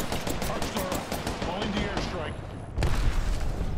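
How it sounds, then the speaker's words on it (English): Rapid gunfire in a first-person shooter game, dense and continuous throughout, with a heavier burst of shots near the end. "Opening fire on the enemy."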